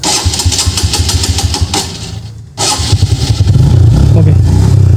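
A TVS Metro Plus motorcycle engine is cranked and catches after its carburettor had run dry, sputtering, dipping briefly, then settling into a loud close idle with rising revs.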